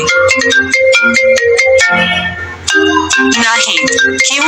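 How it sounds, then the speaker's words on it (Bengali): A custom phone ringtone with a tonal melodic jingle and a synthesized voice calling out the caller's name, loud and close, with repeated bright notes and a short spoken-style passage partway through. "একটু আগে আপনারা যেটা শুনলেন যে নিজের নাম দিয়ে তৈরি করা রিংটোন আপনার ফোনে বেজে উঠবে"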